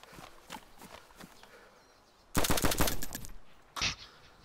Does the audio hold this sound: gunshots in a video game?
yes